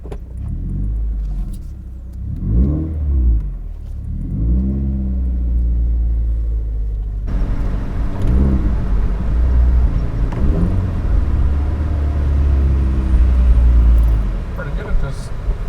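Subaru fitted with a Tomei Expreme Ti titanium exhaust and Grimmspeed catted J-pipe pulls away and accelerates. A steady, loud engine drone rises and holds, with people talking over it throughout.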